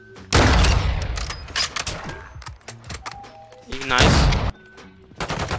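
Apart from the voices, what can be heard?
gunfire in the video game Modern Warfare 2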